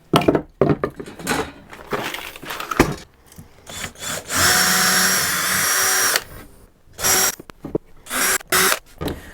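Power drill boring pilot holes into splitty pallet wood for a storage box, a loud close whine in several short bursts with one long sustained run in the middle, plus clunks of handling, no voices.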